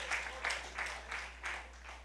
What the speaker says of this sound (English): Let's get the Lord a hand clap of praise